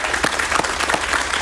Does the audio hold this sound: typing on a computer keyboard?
no